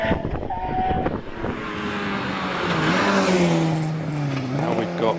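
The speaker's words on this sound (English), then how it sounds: "he's followed on the hill by Jock Ramsey, who's heading into Farmhouse in the Opel Manta" An Opel Manta climbs the Harewood hillclimb course, its engine note holding high and rising and falling through the gears as it nears and passes at moderate distance, with a steady roar and no clear talk over it.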